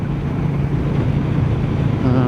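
Wind rumbles and buffets steadily against a rider on a Royal Enfield Meteor 350 motorcycle in the cold, dark early morning. A low, constant roar fills the clip with a voice partly underneath.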